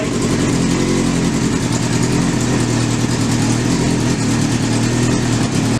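A Honda CBR600 motorcycle engine runs loud and close after a fuel leak repair, rumbling steadily throughout with its pitch rising and falling slightly as it is revved.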